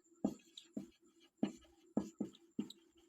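Chalk or a marker writes on a board in six quick, evenly spaced taps and strokes. The sound is close but faint, with no voice over it.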